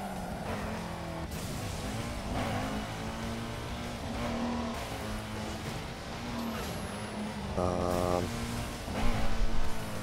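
A heavily armoured destruction car in a racing game roars continuously with a rough, growling engine, air-brake-like hisses and mechanical clatter rising toward the end.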